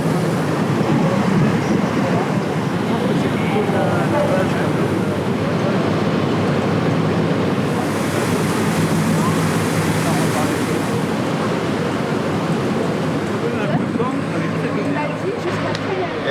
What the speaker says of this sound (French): il a foutu les propulseurs d'étrave